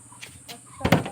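A door gets a hard push and swings open, a short loud thump near the end after soft background sounds, with a voice urging in the background.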